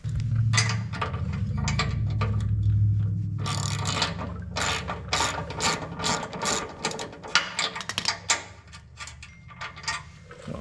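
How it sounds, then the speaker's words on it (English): Ratcheting wrench working a bolt off an Exmark Vertex X Series mower, fast clicking ratchet strokes in close, uneven bursts over mechanical rattling, no talking. "you want to take this bolt off right here. You'll need a 1/2-inch wrench."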